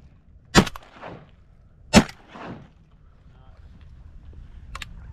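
Shotgun blasts fired at a drake during a Texas duck hunt outdoors: two sharp, loud shots about a second and a half apart, then a fainter third shot after a pause, with wind and faint outdoor background between them.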